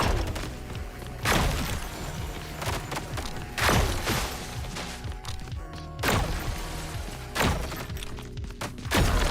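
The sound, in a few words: gunfire from a roguelike FPS video game, ODDCORE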